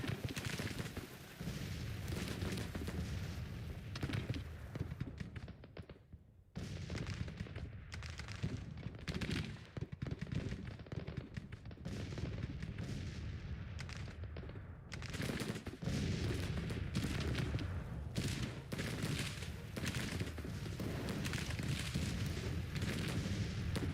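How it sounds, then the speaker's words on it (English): Cannon fire in the Grand Tactician: The Civil War strategy game, a dense, continuous barrage of booming gunfire and artillery rumbling nearly throughout with only brief lulls, loud and alone without talk. "the cannons to the north continue to fire down upon the enemy"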